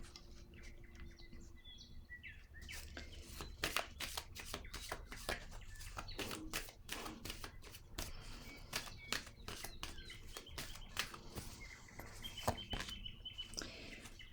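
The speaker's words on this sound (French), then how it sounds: "Je vais déposer une carte ici." Playing cards are shuffled and laid down in faint, irregular flicks and soft taps over a low background hum, with light chirping in the distance.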